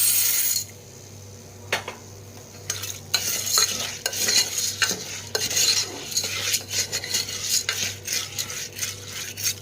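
Toor dal sizzling in a hot tempering while a spoon scrapes and clinks against the pan, with loud bursts of frying and irregular stirring knocks, close and without talk.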